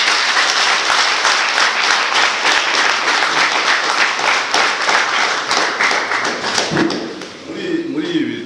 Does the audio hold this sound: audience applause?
yes